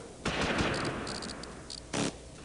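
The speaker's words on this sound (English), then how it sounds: "I heard some machine guns." Machine gun bursts in the wartime strategy game Close Combat, set in the Normandy invasion: a few rapid, crackling volleys at moderate distance, with a separate short burst near the end.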